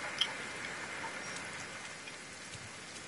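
Steady rain hissing in a video game, a constant soft wash of drops with a faint tick near the start, no voices.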